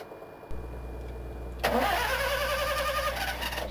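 A carpet-cleaning truck mount engine cranks and fires, then settles into a steady mid-pitched idle with a whine layered on top, close and fairly loud after a quiet lead-in hum.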